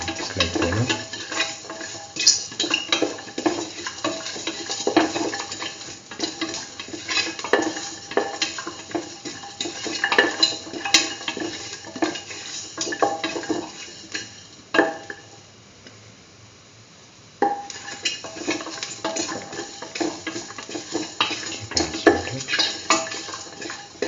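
Garlic sautés with beetroot and mung bean stew in a pan, giving a continuous close sizzle with repeated scraping and clinking of a utensil stirring against the pan, briefly quieter near the middle.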